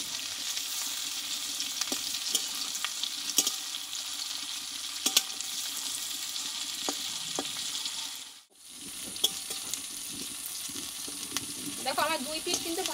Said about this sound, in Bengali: এগুলো কিন্তু ভাজতে হবে